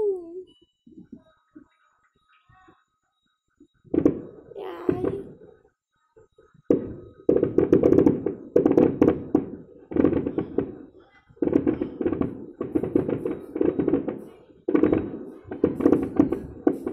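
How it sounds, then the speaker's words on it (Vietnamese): Fireworks explode over the Tet new year celebration in a series of dull, distant thuds and crackling bursts, coming in repeated clusters after a quiet opening. "Quanh nhà mình xem được 3 lượt pháo hoa đấy."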